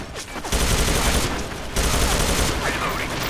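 Gunfire in the video game CS:GO from a sniper rifle, loud and close, with dense bursts of shots and overlapping reports filling most of the few seconds.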